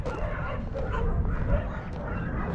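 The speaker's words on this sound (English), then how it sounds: "Dogs are the loudest ones." Dogs bark and yip at an animal rescue shelter in Paphos, Cyprus, a continuous noisy din of many voices mixed with broad background sound throughout.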